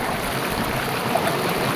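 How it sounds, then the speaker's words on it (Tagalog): A stream of cool flowing water rushes in a steady, close, broad wash with no breaks for a couple of seconds. "Ang tubig para umaagos."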